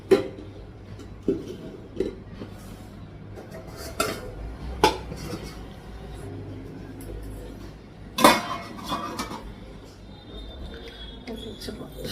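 Dishes, pots and lids clink and clatter in a home kitchen as cooked food is covered, with a few sharp knocks standing out over steady background noise.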